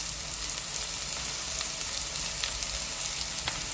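Spices and chili powder sizzle steadily in hot oil for a black-eyed pea tempering in a home kitchen, with a close, continuous fry and occasional sharp pops, and no talking.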